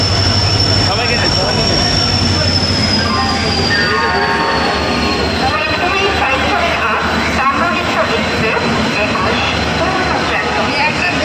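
Inside a moving, crowded train, a loud, continuous rumble of wheels and carriage runs throughout, with a high steady whine and the murmur of passengers beneath it.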